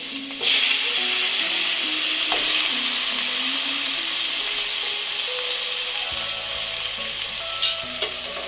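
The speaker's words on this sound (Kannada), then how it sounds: "ಎಣ್ಣೆ ಕಾದ್ಮೇಲೆ ತರಕಾರಿ ಕಟ್ ಮಾಡ್ಕೊಂಡು ಇಟ್ಟಿರ್ತೀವಲ್ಲ ಅದನ್ನು ಬೇಗ ಹಾಕಿ" Cut vegetables sizzle loudly in hot oil for veg fried rice, a dense, steady frying hiss broken by the scrape and clack of stirring against the pan, close and continuous.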